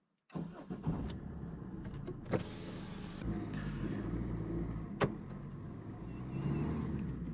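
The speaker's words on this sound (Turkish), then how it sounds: "şimdi arabamızı çalıştırdım." A Peugeot 208 1.4 HDi diesel engine cranks and fires, then settles into a steady, rough, rumbling idle with a few clicks and knocks along the way.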